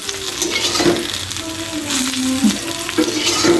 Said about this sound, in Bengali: ফার্স্টে তেজপাতা দিয়ে আর মরিচ পেঁয়াজ দিয়ে ভালো করে ভেজে নিতেছে।